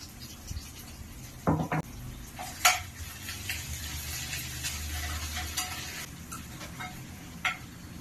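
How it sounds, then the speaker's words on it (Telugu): Ginger garlic paste fries in a pan with a steady, low sizzle. A spoon or spatula knocks and scrapes against the metal a few times. "అల్లం వెల్లుల్లి పేస్ట్ పచ్చివాసన పోయేంత వరకు వేయించుకోవాలి"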